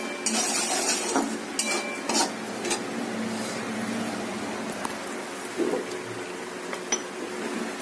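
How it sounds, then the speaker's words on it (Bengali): Semolina stirred in a pan, with soft scraping and spoon taps against the metal over a light sizzle, close by and fairly quiet, no one talking. "সুজি দিয়ে দিলাম, একটু নাড়াচাড়া করবো"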